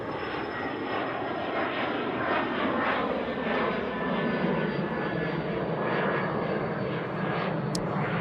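A United airliner's engines at Sydney Airport as it moves along the runway, a continuous mid-distance roar and whine that stays steady throughout with no voices over it.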